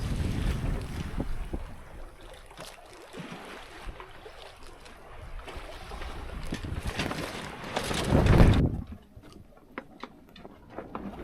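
Wind buffets a sailboat far offshore in the Pacific as water rushes and slaps along the hull, a steady windy roar that swells into a louder surge of water before easing.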